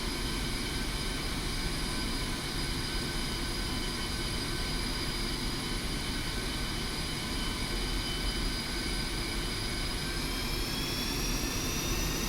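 Twin jet engines of a Su-25 attack jet in DCS World run steadily while taxiing onto a runway, a loud continuous roar with high whining tones that rise slightly near the end.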